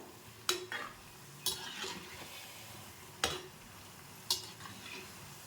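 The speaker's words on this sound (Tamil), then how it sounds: "காலிஃப்ளவர் நல்லா பொரிஞ்சிருச்சு" Oil sizzles steadily with a bubbling hiss as cauliflower deep-fries, broken by four sharp metallic clinks of a utensil stirring in the pan.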